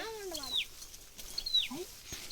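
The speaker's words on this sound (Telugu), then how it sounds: "పిట్టలు చూడండి ఎట్లా అరుస్తున్నాయో" Birds call at dusk in a forest, with a few sharp, rising and falling chirps and whistles spaced across a short stretch of quiet outdoor air.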